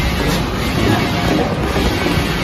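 Steady, loud whoosh of air from the suction fan of a wide-format DTF shirt printer with a 60 cm print width, an even rushing hiss that runs unbroken throughout.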